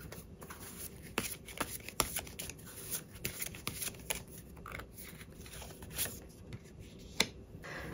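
Tarot cards being shuffled and drawn, a quiet close run of riffling and slapping card sounds with sharp snaps and flicks scattered throughout, no voice.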